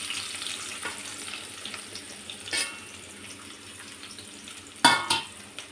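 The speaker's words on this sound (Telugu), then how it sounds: "అదే నూనెలో ఒక 2 ఉల్లిపాయలు పొడుగ్గా కట్ చేసుకొని వేసుకోవాలి." Two long-sliced onions fry in oil with a steady low sizzle, broken by a couple of louder stirring scrapes and crackles near the start and the end.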